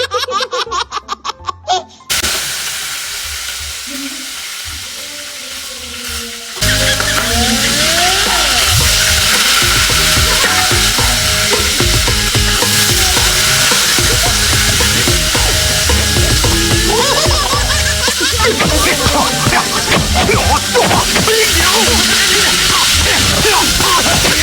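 Okra frying in a pan: after a few quiet seconds a loud, steady sizzle bursts in and keeps crackling without a break, with laughter rising over it.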